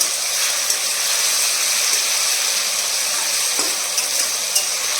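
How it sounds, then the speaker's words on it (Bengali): Steady, dense sizzling of potatoes frying in hot oil, loud and continuous throughout with a few faint clicks, no voices. "আলু কেটে নিয়েছি এখন এটা ভাজা বসালাম"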